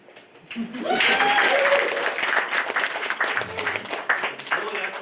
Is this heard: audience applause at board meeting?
yes